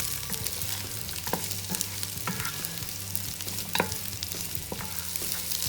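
Onions and carrots frying in hot oil in a pot while being gently stirred, a steady close sizzle broken by scraping stirs every second or so, with no voices.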